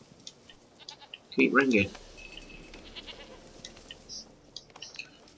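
In The Witcher video game, a goat gives a single loud, wavering bleat nearby, with someone talking over the game's background sounds.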